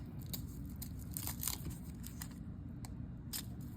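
Packaged melt and pour soap bars are unwrapped, with soft crinkling and tearing of plastic wrap in a series of quiet, close, irregular rustles over a low background hum.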